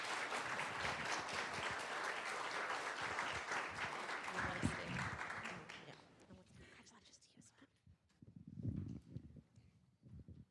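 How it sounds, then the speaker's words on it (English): Audience at a county board meeting giving a round of applause, dense sustained clapping for about six seconds that thins into scattered claps and murmuring voices as it dies away. "Another great big round of applause"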